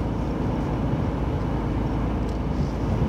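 A car cruising on the road in fifth gear gives a steady, loud low engine drone blended with road rumble, unbroken throughout with no talk.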